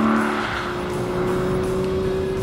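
A 2013 Aston Martin V12 Vantage driving on canyon roads, its V12 engine giving a steady, loud, close drone that holds a constant pitch throughout, heard from inside the car with no talk.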